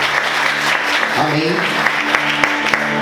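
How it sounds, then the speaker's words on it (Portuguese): A church congregation applauding, a dense rush of clapping under a voice speaking and singing over an organ-like sustained tone. "Você consegue aplaudir Jesus?"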